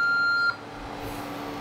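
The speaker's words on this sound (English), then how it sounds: "This is the alarm that will go off. It's flashing green. It says O2 failure." An O2 failure alarm on an MRP C CO2 skin resurfacing laser gives a loud, steady electronic tone that cuts off abruptly after about half a second, leaving only a faint background hiss.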